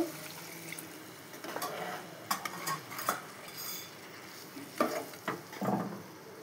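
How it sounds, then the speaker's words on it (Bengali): Water goes into a hot pan of fish curry and is stirred, bringing a soft sizzle and hiss under repeated scrapes and clinks of a metal spoon against the pan, close and moderately quiet. "এবারে জল দিয়ে দেব"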